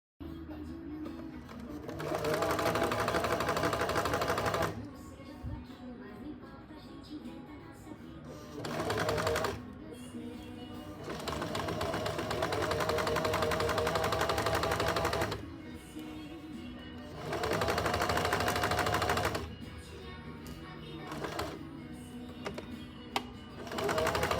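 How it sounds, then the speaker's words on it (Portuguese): A sewing machine stitches a straight seam along the folded edge of a skirt in several bursts of rapid, even whirring, separated by short quiet pauses, close and loud. "na hora de passar a costura reta na máquina"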